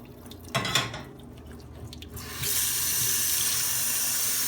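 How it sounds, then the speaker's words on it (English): Kitchen tap water rinsing boiled soba noodles in a sink, a brief clatter of dishes followed by a steady, close rush of running water. "You want to rinse with cold water."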